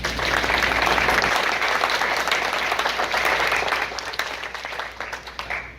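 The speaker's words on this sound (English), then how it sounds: "let's give the members of our community a round of applause" Audience applause for community members at a social work pinning ceremony, a dense, steady wash of many hands clapping in a hall, holding loud for several seconds before gradually thinning toward the end.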